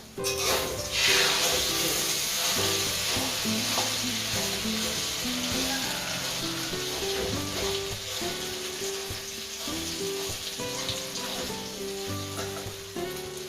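Egg omelette with cha-om (acacia leaves) sizzles steadily in a hot pan, a continuous loud frying hiss throughout with background music and occasional faint kitchen sounds.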